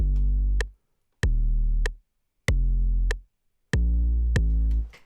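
Simple deep bass line in a chill siren jam remix, four sustained low notes each cut off before the next, with crisp ticks marking the beat in between, alone and prominent.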